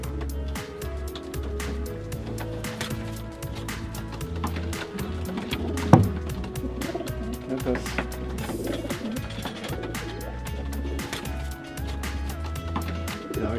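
Pigeons in a loft, with repeated soft low cooing and wing and wood knocks throughout, heard under someone talking nearby.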